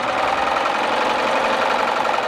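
A Baby Lock serger runs a 4-thread overlock seam along fabric, giving a steady, fast mechanical whir with a continuous rhythm, close and fairly loud with no talk.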